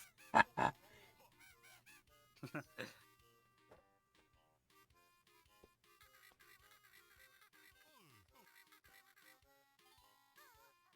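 Birds in the video game Grunty's Revenge give a few sharp honking calls near the start, then a burst more around two seconds, followed by quieter game music and effects.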